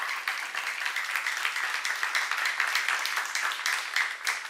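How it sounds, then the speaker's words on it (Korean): Church audience at a Bible seminar breaks into steady applause, a dense continuous patter of many hands clapping at moderate volume with no voices over it. "지금 박수 나지"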